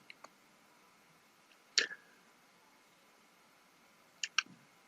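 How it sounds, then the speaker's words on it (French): A few soft, crisp mouse clicks on a computer, heard as short isolated taps in a quiet room, with a paired double click near the start and another pair near the end. "Donc je clique ici sur Deposit."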